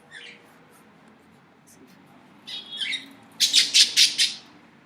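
Birds squawk and chirp inside a third-floor drawing room, a few faint calls at first, then a loud cluster of sharp, rapid squawks near the end over a quiet room hum.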